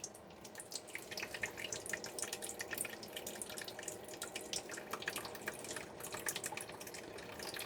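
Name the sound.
water filling hydroponic bucket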